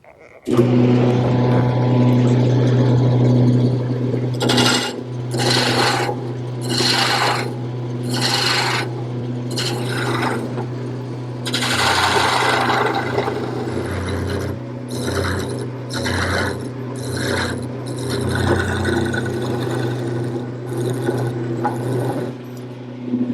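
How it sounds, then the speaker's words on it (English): A wood lathe spins a workpiece for quilt rack turnings while gouges and a scraper cut it, giving a steady motor hum under loud rhythmic bursts of rasping cuts with short pauses between. "To make all the rest of the turnings, I'm going to use a variety of gouges and maybe even a scraper."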